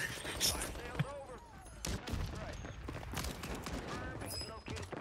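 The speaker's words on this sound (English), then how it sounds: "The shotgun, Mike." A few sharp shotgun blasts go off in a first-person shooter, scattered among busy game noise and a talking voice.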